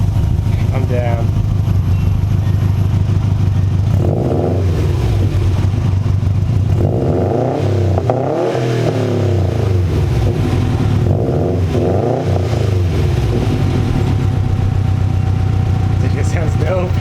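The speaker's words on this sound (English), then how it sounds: "I think I'm backfiring now" A 2019 Subaru STI fitted with a Blox axle-back exhaust idles and revs, engine swelling in repeated loud surges with crackling backfire, while people talk nearby.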